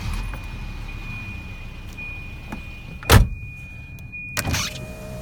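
The front power windows of a 1992 Volvo 244 run with short electric motor whirs and a thump near the end, set against a quiet idling background inside the car.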